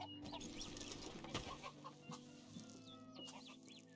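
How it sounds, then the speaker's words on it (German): Geese in a goose pen in the video game Medieval Dynasty cackle and honk with scattered clucking calls over a quiet, busy farmyard background, faint and without talking. "Jupp, da sind Gänse drin."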